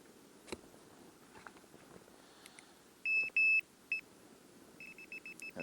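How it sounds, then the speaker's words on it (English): Metal detector sweeping a park lets out a run of short, sharp electronic beeps, a few longer tones near the start followed by a quick rapid series, over faint outdoor background. "Probably have to turn the metal detector back on"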